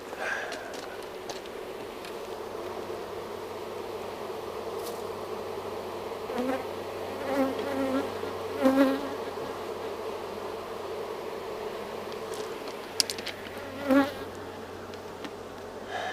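Steady droning buzz of many honey bees around a hive, continuous throughout with a few louder passes of individual bees nearby.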